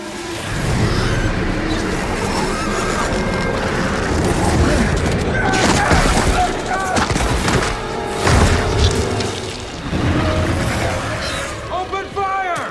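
Gears 5 video game combat with gunfire bursts and heavy booming explosions over dense, loud crashing action, while character voices shout throughout.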